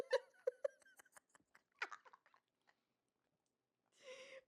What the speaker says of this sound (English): chewing on your cookie and answer